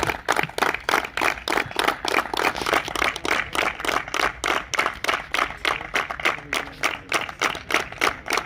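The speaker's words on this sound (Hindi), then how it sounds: "जोरदार तालियों से स्वागत करें पंजाब" Loud, sustained applause from an audience welcoming players at the opening of a friendly blind cricket match, dense clapping rolling steadily throughout with no talk over it.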